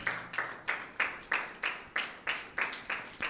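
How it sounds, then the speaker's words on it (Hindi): Congregation clapping together in a church Sunday service, steady rhythmic claps in unison, about three per second, loud and even with no talk over it. "एक बार फिर से खुदावंद यीशु के लिए तालियां बजाएं, जोरदार तालियां बजाएं खुदावंद के लिए"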